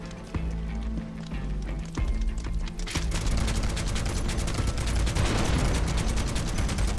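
Barret firing at boulders in Final Fantasy VII Rebirth: rapid, dense volleys of gunfire and impacts, loud and continuous from about three seconds in, after a sparser opening of scattered shots over a low game rumble.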